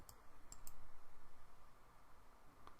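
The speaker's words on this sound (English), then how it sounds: "Right click to repeat explode." Sharp mouse clicks in AutoCAD, a few quick taps near the start and another near the end, close and fairly quiet over a low steady room hum.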